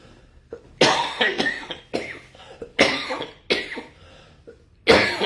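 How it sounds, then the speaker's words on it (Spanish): A person coughs hard several times in a row, rough bursts separated by short pauses, close and loud with no speech. "todavía no se me acaba la tos"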